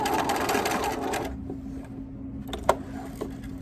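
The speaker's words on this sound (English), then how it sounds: "And I'm just going to keep stitching down the side of this open edge." A sewing machine stitches a seam on jeans fabric, its close steady whir running for about a second before stopping, followed by a low hum and a couple of small clicks.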